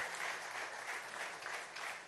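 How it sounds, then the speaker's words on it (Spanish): An audience at a political anniversary event in Venezuela claps in sustained, steady applause that fills the whole stretch without a break, heard at a moderate distance with no talk over it. "Quiero que le demos un aplauso a esta juventud"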